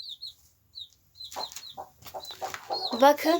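A mother hen clucks softly while her young chicks peep in high, thin bursts close by, and a person speaks briefly among the clucking.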